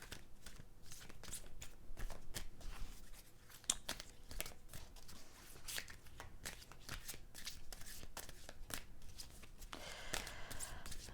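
Tarot cards are shuffled by hand in repeated quick riffles and flicks, crisp papery snaps close to the listener, ending in a brief rustle as a card is pulled.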